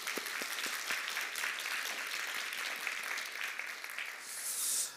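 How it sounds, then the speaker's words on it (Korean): Church congregation applauding during a Korean Sunday worship service in Seattle after a choir's Christmas praise song, a steady wash of clapping filling the room for several seconds before tapering off. "우리 하나님께 영광의 박수 한번 올려드리겠습니다."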